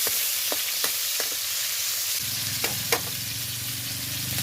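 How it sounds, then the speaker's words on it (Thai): Pork stir-fried in a pan for egg fried rice, a steady hissing sizzle with a few sharp utensil taps, the frying growing fuller and more crackly partway through, close and without talk. "เริ่มจากการเอาหมู ไปผัดก่อนนะ"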